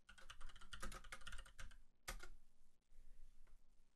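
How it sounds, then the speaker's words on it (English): Rapid clatter of keystrokes on a computer keyboard while a chat message is entered, dense and close for about two seconds, then a pause and a few lighter scattered taps. "If we type a message into the client,"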